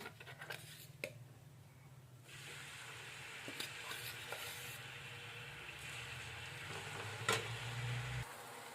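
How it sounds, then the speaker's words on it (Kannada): Green chillies fry in a pan in a home kitchen, giving a steady sizzle that grows louder partway through, with a few stirring scrapes and clinks over a low hum, and no talking. "ಇವಾಗ ಹಸಿಮೆಣ್ಸಿಕಾಯಿ ಹಾಕ್ಕೊಂಡು ಇದಕ್ಕೆ ಫ್ರೈ ಮಾಡ್ಕೊಳಕತ್ತೀನಿ ನಾನು"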